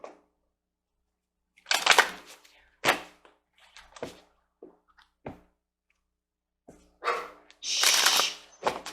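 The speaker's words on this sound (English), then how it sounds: "Sorry, my dog is barking." A pet dog barks indoors in short, separate bursts with quiet gaps between them, fairly close and loud, ending in a longer burst near the end.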